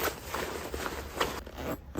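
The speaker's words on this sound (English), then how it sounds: "you just zip it down" A lightweight WATERFLY 20L packable daypack is zipped shut into its small carrying case, giving a few quick, close zipper rasps in short bursts.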